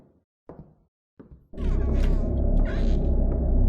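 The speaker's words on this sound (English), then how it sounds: "Don't creak at me." A door creaks open inside the horror video game Buried Darkness. After a few faint knocks, a loud, steady creaking groan fills the space and runs on for about two seconds.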